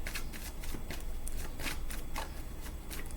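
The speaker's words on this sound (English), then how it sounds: "Let me shuffle real quick" A Moonology tarot deck is shuffled by hand in quick, soft riffling bursts of card flicks, faint and close with no talking.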